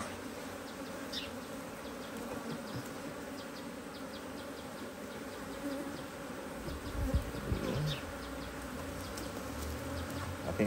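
Honey bees buzz continuously during a beehive inspection, a dense hum from many insects close by with occasional nearer passes and light handling noises.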